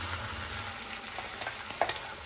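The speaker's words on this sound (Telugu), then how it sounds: "ఆనియన్స్ పచ్చిమిర్చి అయితే ఫ్రై అయిపోయాయి" Onions and green chillies fry in a pan with a faint, steady, hissing sizzle. A few small crackles and stirring clicks come through near the end, and no one speaks.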